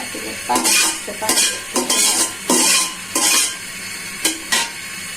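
A cooking pot heating on a stove as oil goes in, with loud metallic scraping and clanking of a utensil against the pot in irregular bursts and a faint sizzle underneath.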